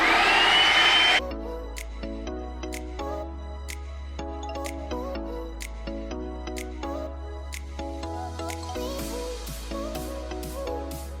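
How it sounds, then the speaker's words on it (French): An injector-extractor machine works on the fabric convertible soft top of an Audi A5 Cabriolet. A brief loud hiss gives way to a steady low motor hum broken by repeated sharp clicks and soft suction sounds. "là je vais mettre un petit coup de l'injecteur, extracteur"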